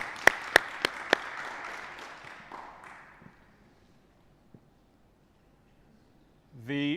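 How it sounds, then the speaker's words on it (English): Audience applause at an accelerator-program pitch night: a few sharp claps over a broad wash of clapping that fades out within about three seconds, leaving near silence. "I want a big round of applause for everyone."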